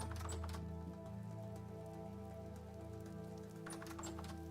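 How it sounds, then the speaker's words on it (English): Rain setting in within the video game Vintage Story, a quiet steady patter of drops over a low humming game backdrop, faint and continuous throughout. "it's starting to rain."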